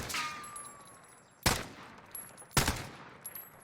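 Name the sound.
AN94 hyper burst gunfire in Warzone video game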